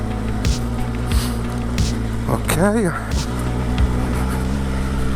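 A Benelli TRK 502X motorcycle engine drones steadily while riding off-road on a plateau, loud and rough under wind buffeting, with the revs rising and falling briefly; someone speaks over it.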